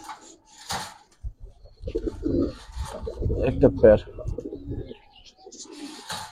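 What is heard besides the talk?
pigeons cooing in a loft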